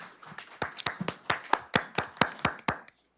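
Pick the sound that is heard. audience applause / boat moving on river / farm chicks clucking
audience applause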